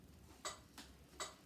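Three soft, evenly spaced metronome ticks keep a steady beat, faint and close with a quiet hiss underneath and no talking.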